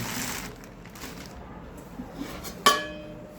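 A pressure cooker from a cookware set given out to construction workers clanks once, sharp and close, against a quiet background with faint handling before it.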